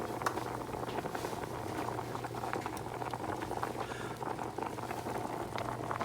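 A pot of potatoes boiling hard in water, the potatoes falling apart: dense, continuous bubbling and popping with a low steady hum beneath, fairly quiet and close, with no talking.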